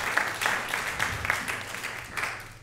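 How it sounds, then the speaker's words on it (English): A church congregation applauds volunteers in a fellowship setting, a steady wash of many hands clapping at moderate distance, fairly soft, with a few sharper individual claps standing out. "Let's clap again for that."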